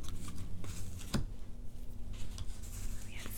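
Tarot cards handled and gathered up after a reading, soft close shuffling, rubbing and tapping of card stock, quiet and intermittent with no talk.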